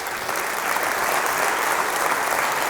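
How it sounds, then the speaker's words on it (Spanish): Steady, dense applause from a church congregation, loud and continuous across the whole moment with no talking over it. "Denle un aplauso al Señor."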